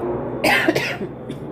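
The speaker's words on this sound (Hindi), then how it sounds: "खांसी भी हो रही है" A woman coughs: a short burst of two or three harsh, close coughs, then a fainter cough, with no talk.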